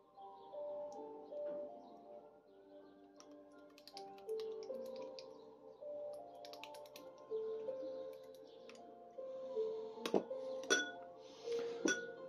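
A small spoon clinks against a dish while sweet chili sauce and soy sauce are stirred together, giving light, scattered metallic taps that grow more frequent toward the end over faint kitchen background tones.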